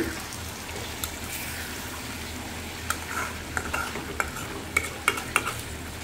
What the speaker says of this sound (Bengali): এই যে আমি মাছগুলো আবার নাড়াচাড়া করে দিচ্ছি।